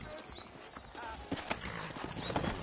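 Hooves clop unevenly on hard ground with faint whinnying and snorting in Red Dead Redemption, set against a busy town background with some indistinct voice.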